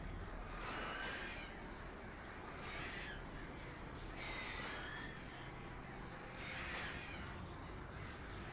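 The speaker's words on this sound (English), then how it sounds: "Birds are coming back." Crows in the video game Alan Wake caw repeatedly in a few separate bursts over a steady outdoor ambience, fairly distant and moderate in level.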